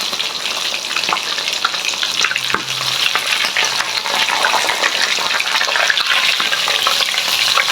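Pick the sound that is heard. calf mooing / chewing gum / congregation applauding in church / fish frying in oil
fish frying in oil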